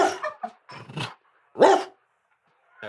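A man imitates the barking of a yellow Labrador guide dog with his voice, giving several short, loud woofs in an uneven rhythm, then a growling bark after a pause, alone with no other sound.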